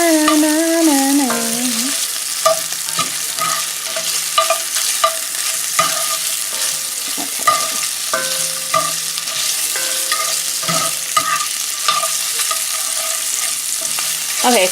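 Smoked beef sausage fries in a skillet over medium heat, a steady sizzle broken by frequent scrapes and clicks as it is stirred, with a brief hummed tune at the start and no talking.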